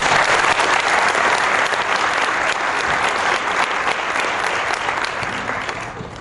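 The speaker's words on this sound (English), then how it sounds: "I think he deserves a round of applause for that" Applause at an eventing association convention, a dense, loud wash of many hands clapping continuously, slowly tapering off toward the end.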